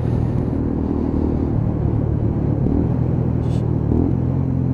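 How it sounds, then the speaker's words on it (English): Lexmoto ZSX-F 125cc motorcycle engine rumbling steadily at close range during a ride, with a brief rev blip from rev-matching on a downshift audible over the continuous low drone. "Just hear that little blip as you just rev match down through the power band"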